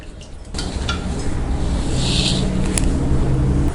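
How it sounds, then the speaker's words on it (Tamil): Water comes to a rolling boil in a pot for rice kozhukattai, giving a steady close hiss with a dense bubbling rumble and nothing else over it. "தண்ணி நல்லா கொதிக்க ஆரம்பிச்சிருச்சு."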